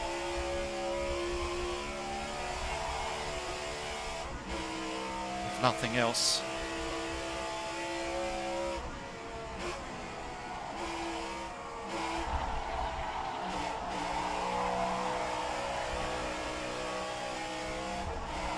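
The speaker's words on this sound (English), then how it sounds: "Is the best sounding engine" Race car engine in a sim racing game during a Belgian Grand Prix league round: a steady, buzzing engine drone with brief revs and shifts, running continuously beneath ongoing commentary talk.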